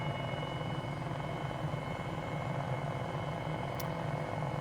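An MD500E helicopter flying in Microsoft Flight Simulator 2020 over Queenstown gives a steady, unbroken rotor and engine drone at constant loudness, with no talking.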